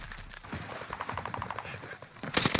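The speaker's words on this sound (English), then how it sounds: "They're all shooting me." Video game gunfire from enemies in a multiplayer battle royale match, a fast rattling burst of automatic shots, moderately faint, followed by louder sharp shots at the end.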